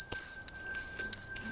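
A bell in the Valheim video game rings in quick repeated strikes, about five loud bright clangs with sustained ringing overtones between them.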